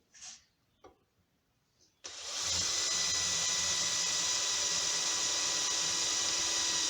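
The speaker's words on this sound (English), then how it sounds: "I'm going to grab my drill, and I'm going to drill these holes to the size I need" After a few soft clicks and handling noises, a power drill whirs up loudly and runs at a steady high pitch without stopping while drilling holes in 1972 Pontiac Firebird grille brackets.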